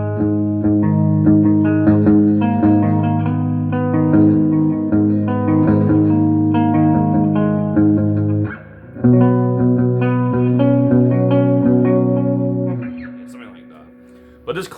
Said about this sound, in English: this clean channel with reverb sounds amazing